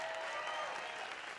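A crowd at a live motivational speaking event applauds. The clapping is dense and sustained but fairly faint and distant, with no clear speech over it.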